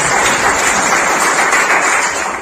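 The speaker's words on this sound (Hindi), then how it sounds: "सर के जोरदार ताली बजा सकते हैं" Loud, dense audience applause at a health talk on diabetes, a steady wash of clapping that holds evenly throughout with no voices over it.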